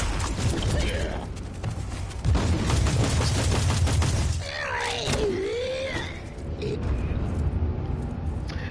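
Grenade explosions and gunfire in the Warhammer 40k Inquisitor Martyr video game form a dense, loud barrage of blasts and rattling fire that continues throughout, with someone talking over part of it.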